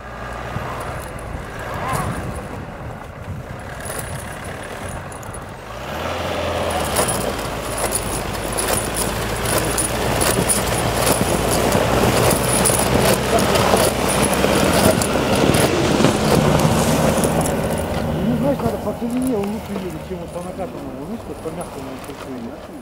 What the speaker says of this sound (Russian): Машина едет на цепях.